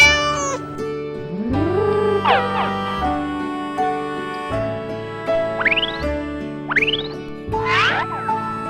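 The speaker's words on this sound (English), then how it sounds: "This is a cat." A cat meowing several times in short, clear calls, set among playful toy-like musical effects with slides and chimes for a children's farm-animal lesson.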